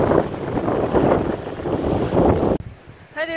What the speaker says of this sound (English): Seems like as we get closer to the top, the wind gets stronger and stronger.